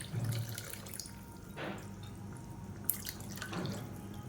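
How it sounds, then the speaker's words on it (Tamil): Tap water runs steadily into a rinsed pressure cooker at close range, with a continuous splashing flow and no talk over it. "இப்போ குக்கரை அலசிட்டு கொஞ்சமாக தண்ணி சேர்த்துக்கலாம்"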